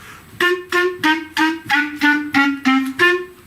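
Nine clear, loud clarinet notes sound one after another in an even, detached rhythm, forming a simple descending line of repeated pitches that ends back on a higher note.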